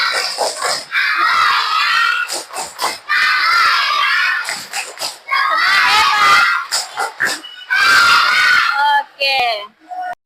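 A class of schoolchildren in a lesson shouts the "tepuk anak hebat" clapping chant. Loud bursts of high young voices and claps come in four rhythmic phrases with short gaps between them.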